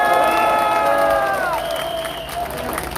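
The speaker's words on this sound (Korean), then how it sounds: "박수 한번 주세요" A rally crowd gathered at a rotary in Chuncheon for a Korean political party, cheering and clapping together, with a sustained roar of many voices and tonal shouts riding over a steady wash of applause.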